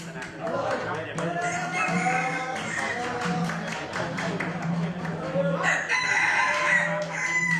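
Roosters at a Tai Lue village life show crow repeatedly, overlapping drawn-out calls mixed with clucking fowl, while people talk and murmur nearby at a busy outdoor gathering.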